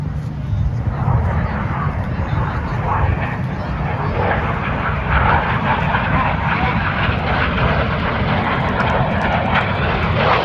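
Red Arrows jets roar overhead during a synchro double roll at an Armed Forces Day air show in a lakeside park, a loud continuous engine rumble that fills the whole stretch outdoors.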